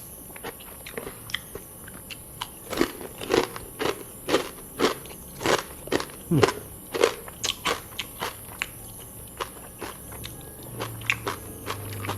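Crispy, dry pork cracklings served with spicy Thai-style rice noodle papaya salad, crunched in a rhythmic series of sharp close bites and chews, about a dozen crackling bursts evenly spaced, fairly faint overall.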